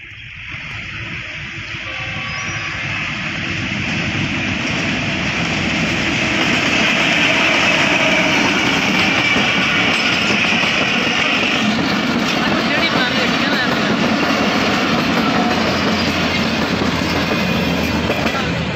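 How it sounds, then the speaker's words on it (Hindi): An express passenger train rumbles past steadily and loudly with rail clatter, building over the first seconds and then holding a broad, sustained roar, with some talk faintly underneath. "सर महर एक्सप्रेस जो इस टाइम नादराबाद के करीब पहुंचने वाली है"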